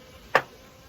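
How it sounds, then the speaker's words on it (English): A honey bee buzzes past a beekeeper's glove in one short, sharp burst close to the ear, rising quickly and fading within a fraction of a second against a quiet background. "Hello, bee."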